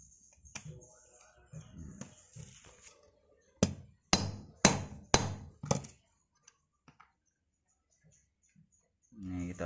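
Lead slug mold struck with its metal cover, five sharp close knocks in quick succession after some soft handling noises, then quiet handling and a voice speaking at the start and end.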